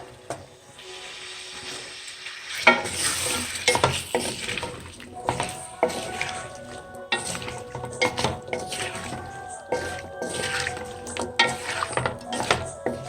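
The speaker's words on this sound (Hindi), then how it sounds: "बस इसे थोड़ी देर तक भूनेंगे।" Potatoes stirred into masala in a home kitchen pan, with scraping spoon-on-pot clatter and soft sizzling; starts quiet, then steady stirring clanks and knocks throughout, no talk.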